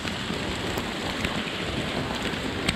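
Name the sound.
heavy rain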